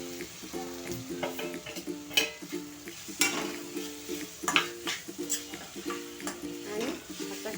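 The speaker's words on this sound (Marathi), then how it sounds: "आता आपण आपले फ्राय केलेले कारले त्यामध्ये सोडायचे" Fried bitter gourd tipped into a cooked tomato mixture in a pan, sizzling and frying steadily with repeated scraping stirs and light clinks of the utensil, close and alone.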